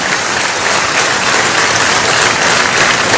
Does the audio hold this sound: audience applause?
yes